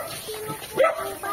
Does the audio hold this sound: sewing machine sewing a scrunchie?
no